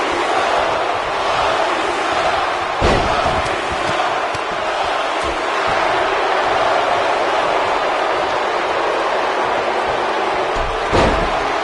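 A wrestler hits the mat hard in the WWE 2K19 video game, with loud slams that cut through a constant roaring arena crowd, the impacts landing near the start and the end.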